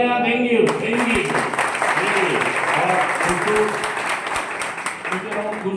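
An audience at a group class gives a round of applause, steady crowd clapping mixed with a voice talking over it throughout, moderately loud and close.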